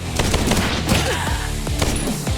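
Rapid, loud shotgun bursts in a chaotic first-person shooter firefight, blasts overlapping with crashing impacts and no pause between shots.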